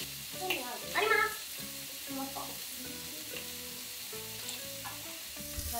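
Foie gras grilling on a BBQ at an evening cookout, with a steady close sizzle running throughout beneath a soft background melody and faint voices.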